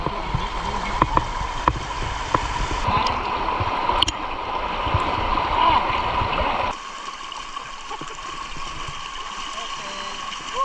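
A river at Mt. Lakay flows with a steady gurgling rush and a few splashy bursts, close and fairly loud, then settles into a quieter, continuous stream.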